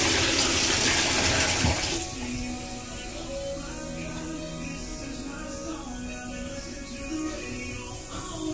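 Water pours from a tap into a bathtub as it fills for a bath, a steady rushing gush that carries on without a break; a brief louder splash comes early, with no talking over it.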